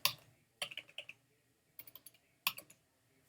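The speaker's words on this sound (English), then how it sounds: "I'm going to type in here, graduation." Quick bursts of keystrokes on a computer keyboard while a search word is entered into Cricut Explore design software, coming in three or four short clusters of clicks separated by brief pauses in a quiet room.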